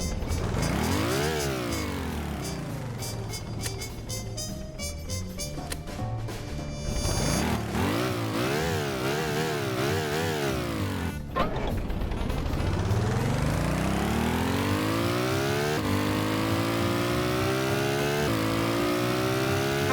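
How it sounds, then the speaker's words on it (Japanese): A custom-built car in the game Stormworks accelerates through its gears, the simulated engine rising repeatedly in pitch and dropping at each shift, loud and close throughout. "それでは、ボンネットを閉めて早速走らせてみましょうか。"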